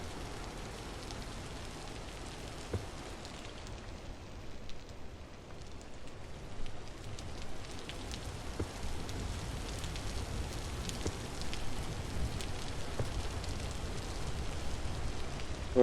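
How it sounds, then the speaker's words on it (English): Steady rainfall in the modded survival game Vintage Story, a dense continuous patter with scattered drips, fairly loud and unbroken throughout, no voices. "I'm just trying to kind of mellow out that rain sound"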